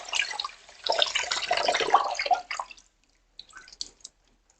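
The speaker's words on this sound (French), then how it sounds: "On rince à l'eau froide." Cold tap water runs over freshly cooked fettuccine in a sink, a steady splashing rinse for about three seconds that stops, then a few shorter drips and splashes follow.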